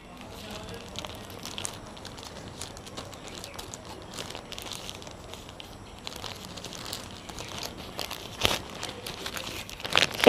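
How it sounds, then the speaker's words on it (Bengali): An Amazon parcel being opened by hand, with faint, irregular crinkling, tearing and rustling of the packaging and a few sharper crackles near the end, while someone talks quietly. "যাই হোক চলো আমি পার্সেলটা খুলি"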